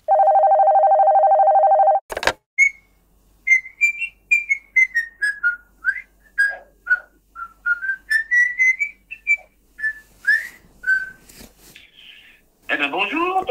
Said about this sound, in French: Parfois aussi le téléphone sonne, comme là.